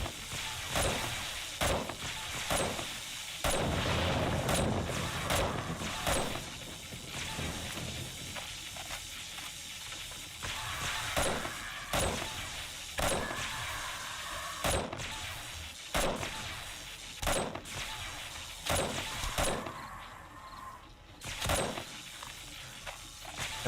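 Sniper rifle shots with armor-piercing ammo in the zombie survival game 7 Days to Die, heard as a series of sharp, loud percussive cracks spaced irregularly over game ambience, with occasional thuds between them.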